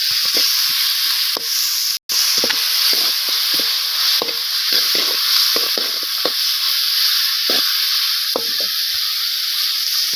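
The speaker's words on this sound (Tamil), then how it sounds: "எல்லாத்தையும் நம்ம வந்து இப்போ வதக்கிடலாங்க." Ingredients, onions among them, sauté in a hot pan with a steady broadband sizzle throughout, punctuated by frequent short scraping clicks of stirring, loud and close, with one brief dropout near the start.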